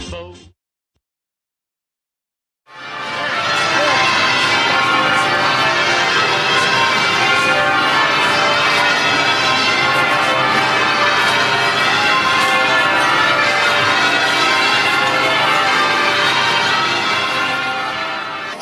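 Church bells of the City of London ring in a loud, sustained peal after a brief silence, overlapping strikes blending into a continuous wash of tone with no talking.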